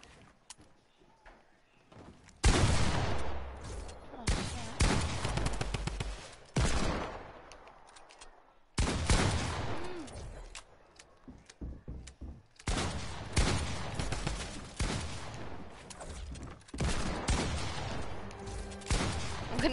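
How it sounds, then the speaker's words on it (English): Desert Eagle pistol fire in a video game comes as loud, sharp bursts of shots broken by short pauses, with close game action and noise between the volleys. "I forgot I had the deagle"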